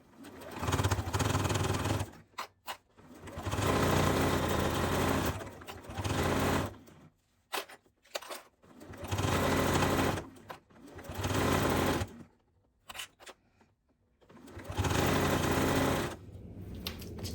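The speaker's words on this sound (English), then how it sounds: "Take it to the sewing machine. I use my zipper foot, and I will stitch this down." A sewing machine with a zipper foot stitches down a zipper on a jelly-roll fabric pouch at a short stitch length, running in steady loud bursts of a few seconds each, broken by brief pauses.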